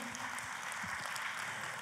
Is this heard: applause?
yes